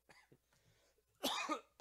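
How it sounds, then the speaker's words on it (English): Two bursts of coughing, a harsh cough spell followed by another cough just starting, after faint breathy sounds in near silence. "it comes out with a cough"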